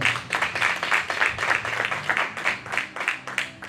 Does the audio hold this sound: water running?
no